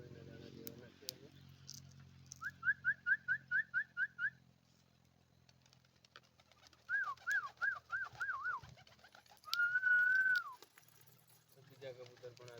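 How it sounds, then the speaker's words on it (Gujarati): Pigeons gathering to eat peanut grains, giving several rhythmic bursts of cooing calls at close range between quieter gaps, with faint background noise. "તો આવી રહ્યા છે બધા કબૂતર"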